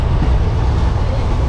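Steady low rumble of a moving 13466 Intercity Express passenger train, a continuous loud carriage drone with faint rail rattle and no clear voices.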